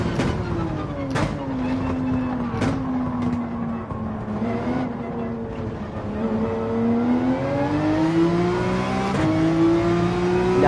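A Red Bull race car in Gran Turismo 7 holds full throttle, its engine a steady, loud whine rising in pitch, with a few brief shift or bump clicks and another car's engine joining near the end.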